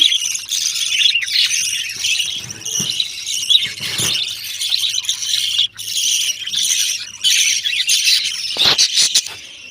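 Small pet birds chirp and tweet continuously in high, busy bursts, close by, with a faint low hum underneath and no talking.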